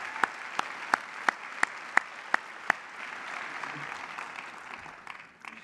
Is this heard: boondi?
no